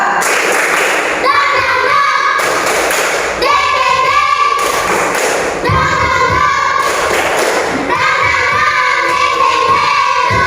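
Schoolchildren in an Indonesian classroom perform a rhythmic clapping chant as an energiser, with bursts of clapping and thumps alternating with chanted voices in a repeating pattern, loud and close.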